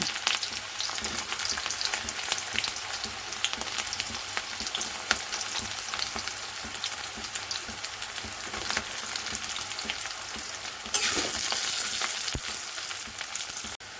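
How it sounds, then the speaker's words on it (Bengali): Three medium onions, sliced lengthwise, frying in hot oil with a loud, continuous close sizzle and occasional stirring scrapes, growing briefly brighter near the end. "3টে মিডিয়াম সাইজের পেঁয়াজ লম্বা লম্বি কুচিয়ে রেখেছিলাম এইভাবে, এটা তেলের মধ্যে দিয়ে দেবো। দিয়ে লাল লাল করে ভেজে নেব।"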